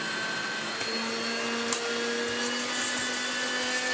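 A Hoover Turbomaster Electronic vacuum cleaner runs at minimum power, a steady close whine with a constant tonal hum and a brief click partway through, no talking.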